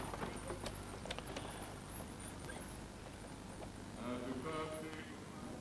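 Hooves clip-clop in a steady walking rhythm, mixed with ambient noise and faint voices nearby, as heavy British draught horses such as the Shire or the French Percheron are shown off at an agricultural machinery show.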